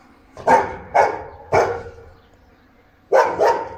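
A dog barks five times in quick single yaps, two pairs and a lone bark, each loud and close with short quiet gaps between.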